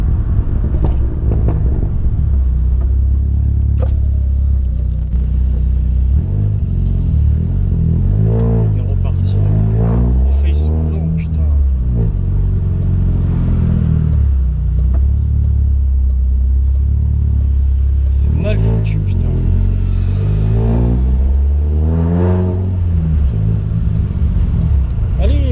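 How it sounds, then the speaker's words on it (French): Car exhaust roaring after a new air intake install, loud continuous rumble with repeated rising revs and engine swells while driving, a voice talking over it. "J'ai l'impression qu'elle fait beaucoup plus de bruit au niveau de l'échappement en fait."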